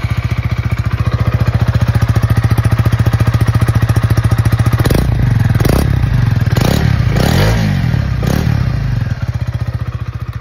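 A Honda CB125R motorcycle with stock exhaust idles with a steady close single-cylinder thrum, then takes several sharp revving blips before settling back to idle.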